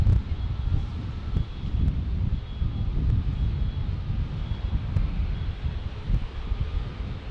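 Low, steady roar of an airliner taking off from a busy single runway in San Diego, heard from a distance with wind buffeting the microphone and no voices over it.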